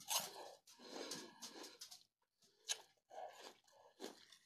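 Quiet, close crunching of celery spread with a vegan topping, several crisp bites and chews in short bursts separated by brief pauses.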